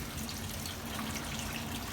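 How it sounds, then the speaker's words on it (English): Hot water drains off a pot of boiled potatoes, a steady continuous splashing pour of liquid running into a sink, close and even throughout. "But you can pour that water off."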